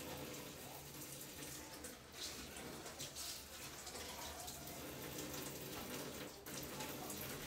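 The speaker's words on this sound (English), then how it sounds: "And we're gonna wash just the regular, like, lettuce or cabbage" Lettuce or cabbage being washed under running water, a steady broadband rush from the tap with small splashes and shifts as the leaves are handled, faint and continuous with no talking.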